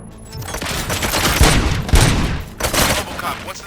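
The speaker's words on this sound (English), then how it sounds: "Gunshots? What's going on?" Rapid bursts of gunfire in the game RoboCop: Rogue City, loud and close with overlapping shots and booming low end, a brief pause then another volley.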